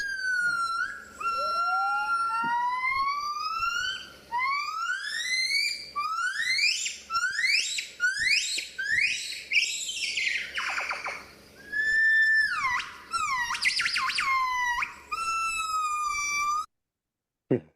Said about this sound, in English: So these are gibbons calling in a rainforest.